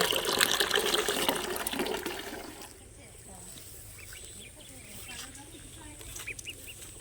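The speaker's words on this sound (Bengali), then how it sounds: "এদিকে জল দিয়ে দিয়েছে, কলে ভর্তি হচ্ছে।" A tap pours water into a container with a loud rushing splash for the first couple of seconds before it fades, leaving quieter ambience with chickens clucking in the background.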